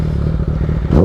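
Yamaha R6 sport bike with an aftermarket exhaust, idling close by with a deep, rapid, burbling pulse and rising briefly at the end in a short rev.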